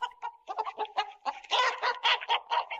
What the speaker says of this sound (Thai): นางแม่ไก่ส่งเสียงร้องขึ้นอีก